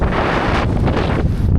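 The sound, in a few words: very strong wind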